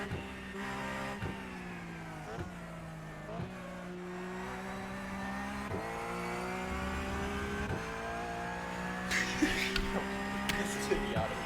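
A race car engine in the iRacing video game revs and shifts through the gears in repeated rising sweeps, moderately loud, with a few sharper bursts near the end.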